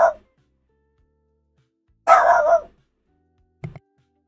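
Dog giving a few separate barks, one short bark at the start, a louder longer bark in the middle and a quick yip near the end, close by with silence between.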